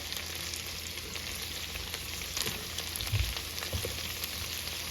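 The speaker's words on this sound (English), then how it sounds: "Cook your onions for about 4 minutes." Beef tips and onions fry in about three tablespoons of butter, giving a dense, even sizzle with a couple of faint low bumps from the pan; steady and moderately quiet, with no speech.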